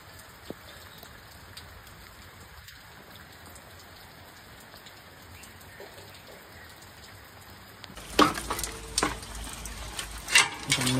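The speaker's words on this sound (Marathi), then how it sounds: "कारण तिला सोडल्यानंतर पाऊस लयच जोरात चालू झाला" Heavy rain falls in a steady, soft hiss, turning into a louder, closer clatter of drops in the last few seconds.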